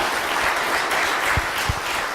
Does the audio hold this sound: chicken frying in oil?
no